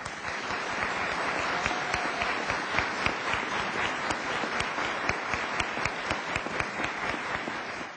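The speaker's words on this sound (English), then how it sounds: "Would you please honor them with applause?" Sustained applause from an audience honoring veterans at a Holocaust remembrance gathering, dense steady clapping throughout with no voices.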